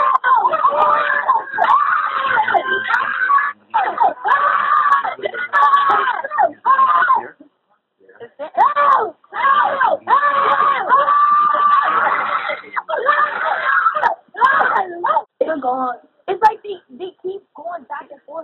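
Frantic screaming and distressed shouting from several people during an emergency 911 phone call, heard in continuous bursts through a thin telephone line, with brief gaps in between.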